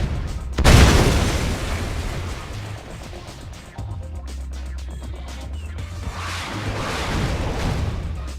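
Naval ship artillery in Red Alert 2 firing, with a loud close boom followed by rumbling explosions and further distant blasts, no talk.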